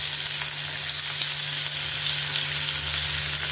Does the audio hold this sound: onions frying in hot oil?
yes